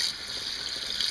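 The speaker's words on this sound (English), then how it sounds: "I've got really hot water on my tap going right now" Very hot water runs from a kitchen tap while a burned cast iron pan is being cleaned, giving a steady close hiss of flowing water with no speech.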